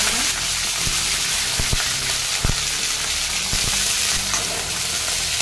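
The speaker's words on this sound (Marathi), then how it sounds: "आता मी हे कढीपत्ता आणि दोडका तेलात" Curry leaves and ridge gourd sizzle in hot oil, a steady broadband frying hiss with a few sharp crackles and pops from the leaves, close and continuous with no talk.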